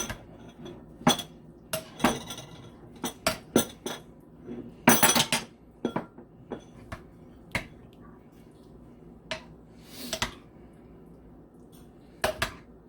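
Spoon clinking and scraping against a bowl while dahi chana chaat is mixed, with repeated sharp clicks in an irregular rhythm, close and fairly loud, and no talking.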